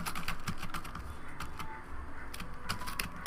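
Computer keyboard keys clatter in quick, irregular bursts of taps as a spreadsheet formula is typed, close and fairly quiet with short pauses between runs.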